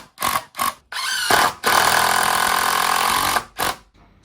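A power screwdriver drives small screws into a wall frame in a house extension, with short whirring bursts followed by one longer, loud, steady run, close by and without speech.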